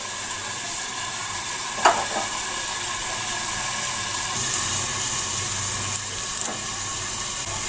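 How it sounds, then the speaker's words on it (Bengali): Flat beans (sheem) fry in oil inside a covered pan, giving a steady, close sizzle and hiss throughout, with a few brief clatters from stirring or lid handling and a slight rise in sizzle partway through. "ঢাকা দিয়ে আমি শিমগুলো হালকা লাল করে ভেজে নেব"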